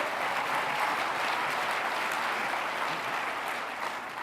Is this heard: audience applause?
yes